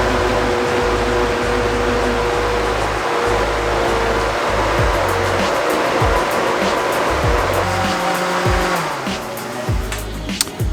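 A Berg blender blends a thick fruit smoothie at high speed, a loud sustained motor roar with churning that shifts pitch and grows rougher near the end.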